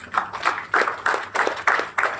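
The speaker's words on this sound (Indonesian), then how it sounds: "Tepuk tangan buat Tuhan." A church congregation claps together in rhythmic bursts at a Sunday service, with sharp repeated groups of claps swelling and fading at a steady pace.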